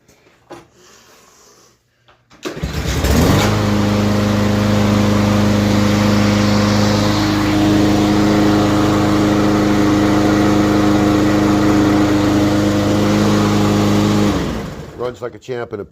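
After a quiet moment and a brief crank, a Star S41 self-propelled lawn mower's small engine catches and runs steadily and loudly close by with a constant buzzing drone, then cuts out and falls silent near the end.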